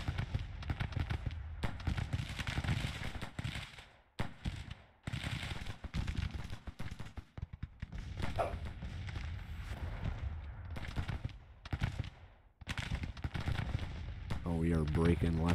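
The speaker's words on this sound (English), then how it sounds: "Let's get this artillery firing on him." Artillery and massed gunfire in a Grand Tactician American Civil War battle, with repeated booming volleys and crackling shots layered almost continuously across the scene, loud and dense, broken by a few brief lulls.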